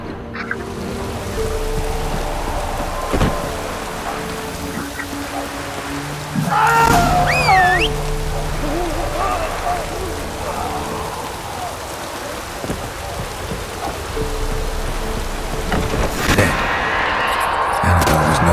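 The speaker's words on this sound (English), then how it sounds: "Looks like rain." Steady rain falling in The Witcher 3, a constant hiss with scattered drops, joined briefly by a fowl-like squawk and low rumbles, with a voice speaking over it.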